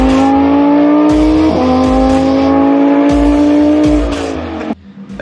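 A car engine revs loudly outside, with sustained high-pitched harmonic roars rising and dropping across several throttle blips, then cutting off abruptly near the end; an M3 is among the cars in a passing convoy.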